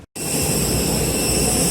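Steady, loud roar of an airplane jet engine heard close up while boarding at an airport, a continuous broadband rush that starts abruptly after a brief silence.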